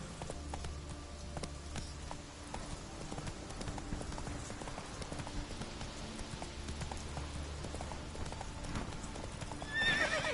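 In The Witcher 3, a horse's hooves clip-clop steadily through Skellige with a whinny near the end, moderately loud and uninterrupted by talk.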